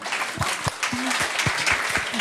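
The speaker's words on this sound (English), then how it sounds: "So give yourselves a clap as well." Moderate audience clapping at a public talk event, steady and fairly close, with a few sharper individual claps and a brief voice over the crowd.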